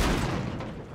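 Single heavy tank cannon shot in World of Tanks, a loud, booming blast up close that rumbles and fades over about a second, with no talking.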